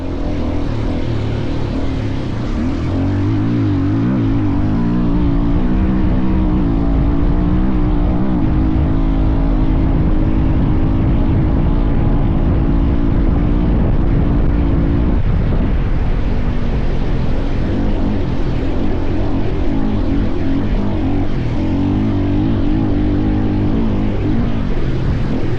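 A desert race dirt bike fitted with an Ag Spec ADR approved exhaust drones loud and close with a steady engine note, shifting pitch partway through as the revs change, and no talking.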